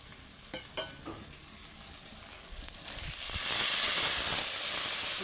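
Spice masala with fried onion and tomato in oil, with water just added, sizzles loudly in a pan for a curry of pomfret fish. A few sharp utensil knocks come first, then the hiss swells and holds steady.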